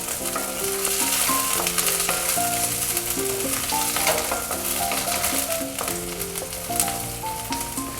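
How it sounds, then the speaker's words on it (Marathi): Chopped onion and capsicum fry in hot oil for a cabbage Manchurian gravy, giving a steady sizzling hiss with occasional stirring. Melodic background music plays prominently over it throughout. "एक 2 मिनटं ह्याला कांदा मिरची असं परतून घ्यायचं तेलामध्ये"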